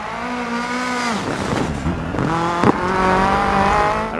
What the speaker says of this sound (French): quand je touche les freins, ça crisse